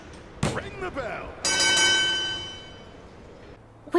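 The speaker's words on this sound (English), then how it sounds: "ring the bell!" A wrestling ring bell rings out in the WWE 2K25 video game, one loud struck tone that sustains and slowly fades over about two seconds, following a short burst of crowd or commentary noise.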